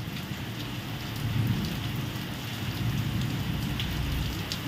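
Heavy rain falling steadily, a thick unbroken wash of hiss with occasional louder drops close by and a low rumbling undertone, swelling slightly midway.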